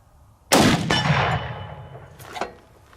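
A 300 Win Mag Accuracy International Mk13 sniper rifle fires a single loud, sharp shot at an outdoor range. The boom rings and echoes off for about two seconds with a faint later knock and no talk.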